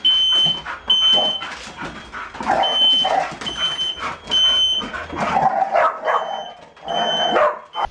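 Dogs bark in quick bursts, close by, with a steady high electronic beep sounding at intervals through the barking.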